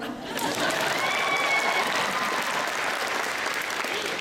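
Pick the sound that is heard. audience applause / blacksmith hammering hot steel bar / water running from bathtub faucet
audience applause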